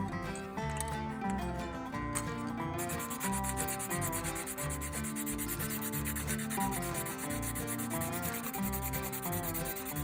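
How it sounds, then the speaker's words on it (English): 100 grit sandpaper rubs steadily back and forth over small wooden beams for a model railroad coaling tower, a continuous close scratchy sanding sound. "I used 100 grit sandpaper to add some wood grain texture"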